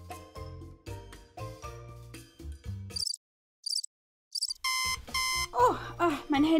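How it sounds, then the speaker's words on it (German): A mobile phone alarm clock rings in short bursts of bright electronic beeps, a repeating pattern that starts, pauses and then returns loud and close, mixed with an electronic music jingle and a voice talking. "mein Handywecker"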